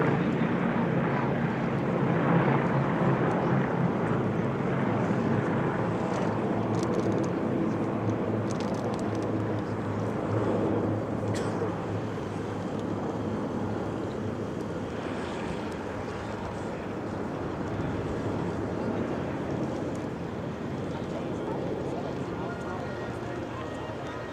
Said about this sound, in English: You see our T-28 formation coming back from your right to your left.